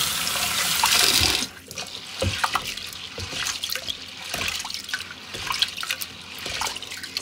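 Sago pearls being rinsed by hand in a bowl of water: a steady rush of running tap water at first, then close, irregular splashing, swishing and dripping as the pearls are swirled and washed several times.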